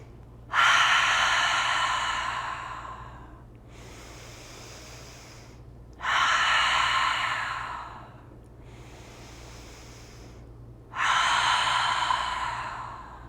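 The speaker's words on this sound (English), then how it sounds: "Breathe 3 breaths." Slow, deep breaths during a yoga class, three long audible exhales at steady intervals, each swelling loud then fading, close to the microphone over a low background hum.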